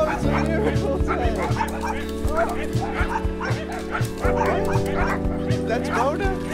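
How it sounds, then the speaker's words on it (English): Several dogs bark, yip and whimper excitedly in overlapping bursts over a steady musical backing in an animated scene, fairly close and loud, with a voice talking among them. "Look at all these dogs."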